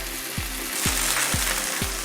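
Cinnamon, bay leaf, cloves, black pepper and black cardamom fry with onion for dal makhani, giving a steady, loud, close sizzle over a low, rhythmically pulsing hum.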